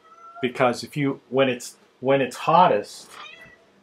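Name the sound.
cat meowing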